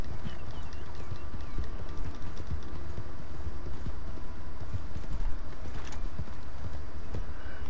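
Rapid clip-clop of horse hooves in Red Dead Redemption 2, in a running rhythm, steady and close, with faint background effects and no talking.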